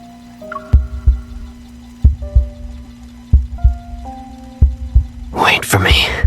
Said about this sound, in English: All I can hear now is Caleb's heartbeat, and then it slowly fades into the distance